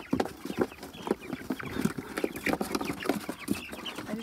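Three-week-old Cornish Cross chicks cluck and peep as they are moved to a new home, giving soft, frequent short calls that are close and fairly quiet, with no talk.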